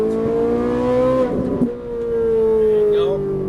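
A Ferrari 458 Italia on a race track holds a loud, steady engine note, dips briefly through a shift or lift, then pulls again, with a driver's voice talking over it inside the car.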